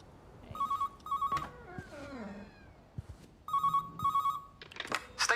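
A telephone rings in the video game Everybody's Gone to the Rapture, sounding as two pairs of bright, warbling electronic rings separated by a pause, clear and close, with soft incidental noises in between.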